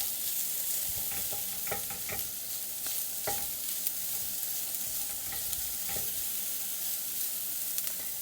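Mushrooms sizzle in hot oil with garlic in a pan, a steady loud frying hiss with scattered pops and stirring scrapes throughout.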